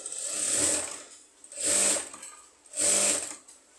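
A sewing machine stitches a garment neckline in three short, even bursts, each a second or less, with brief pauses between them. The whirring runs close and clear with no talk.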